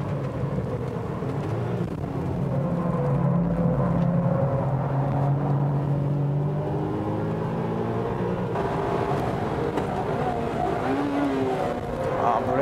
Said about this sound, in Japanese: ポルシェも安定したラップで周回。